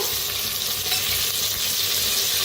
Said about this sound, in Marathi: सगळं भाजून घेऊया